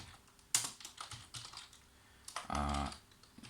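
Clicky keystrokes on a computer keyboard while HTML commands are entered, a burst of taps near the start, scattered presses, then a denser run of typing toward the end, close and fairly quiet with no talk.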